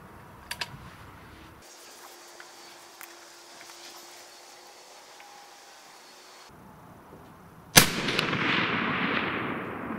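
A 6.5 Creedmoor Savage 12FV rifle in an MDT chassis fires one sharp, loud shot after a quiet stretch with faint clicks, and its blast decays into a long echoing rumble.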